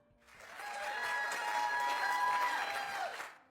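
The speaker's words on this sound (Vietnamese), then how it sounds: "tiếng vỗ tay như sấm vang lên" Applause and cheering fill a train carriage, a dense crowd clapping that swells in quickly, holds steady for a few seconds, then fades out.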